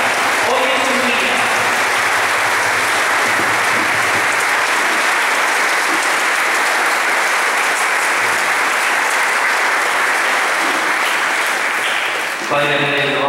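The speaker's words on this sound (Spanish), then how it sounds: "un gran, caluroso y agradecido reconocimiento y aplauso a su joven pastor" Sustained, loud applause from a church congregation honoring its young parish priest during a Holy Thursday foot-washing Mass at a Saint Andrew the Apostle parish, dense and steady for about twelve seconds before cutting off.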